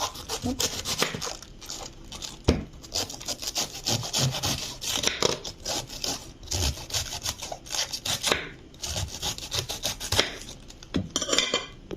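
A knife slices through white cabbage on a cutting board while a salad is prepared, giving a steady run of crisp, rasping cuts and scrapes close up, with no talk.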